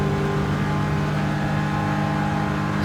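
A Porsche 911 GT race car in Gran Turismo 7 holds a steady, loud engine drone at speed, continuous and close throughout a wheel-to-wheel battle in a GT2 endurance race.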